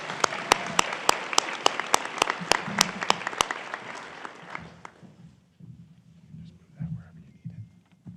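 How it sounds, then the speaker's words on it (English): A graduation ceremony crowd applauds, with sharp individual claps standing out close by, fading after about five seconds into quiet murmuring and soft voices. "Please give a round of applause."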